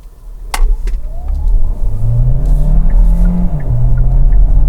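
A 2021 Kia Sorento Hybrid SUV accelerates hard, its engine note rising and swelling in pitch and loudness from inside the cabin, with a couple of sharp clicks near the start.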